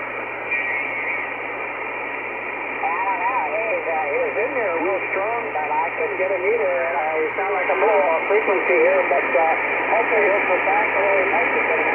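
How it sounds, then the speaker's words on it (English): An XW-2F amateur radio satellite is picked up on an Icom IC-R8500 receiver. A steady hiss and hum carry a warbling, wavering signal that grows slightly louder over time. "So let's try to listen to ham operators as we hear the beacon."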